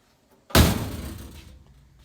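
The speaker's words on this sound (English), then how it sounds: "when you close the door" A single solid thump of a 1964 Comet car door shutting, loud and close, fading out over about a second, with near silence before it.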